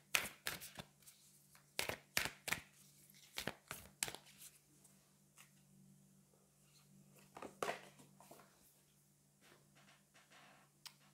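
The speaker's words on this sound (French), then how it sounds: "on va aller prendre une carte de la lunologie" Cards from a lunology oracle deck are shuffled and drawn, with soft papery flicks and taps in irregular bursts, faint and close, over a low steady hum, then quieter handling toward the end.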